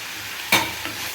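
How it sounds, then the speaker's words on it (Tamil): Chopped chayote, tomato, onion and green chili sauté in a pan for a chow chow kootu. One quick spatula scrape and a softer second stir cut through a low, steady sizzle. "இப்போ நம்ம வதக்கினேன் சவு சவு தக்காளி வெங்காயம் பச்சை மிளகாய் எல்லாத்தையும் வதக்க வந்துடலாம்"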